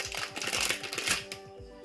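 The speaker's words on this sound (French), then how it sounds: "j'ai déjà besoin d'utiliser la paire de ciseaux." Scissors snip through plastic wrapping on a giant Lollipop Surprise candy toy, a close, quick run of crisp rhythmic cuts and crinkles with no talking.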